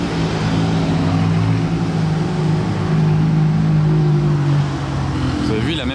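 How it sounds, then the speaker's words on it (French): Aston Martin DBX 707 passing on a street during the Monaco Grand Prix, a loud, steady engine drone with a deep tonal hum that swells and fades slightly as it goes by, with voices talking over it. "Un DBX 707."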